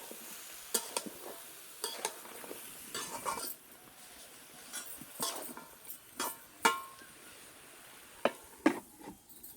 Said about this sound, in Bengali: এখন আমি এখানে সিম আলু একসাথে দিয়ে নিলাম, এখন ভালো করে কষিয়ে নিচ্ছি।